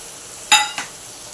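Dried shrimp (jawla) chutney being sautéed and stirred in a pan: two quick, close spatula scrapes with a brief clink over a faint background sizzle, then quiet.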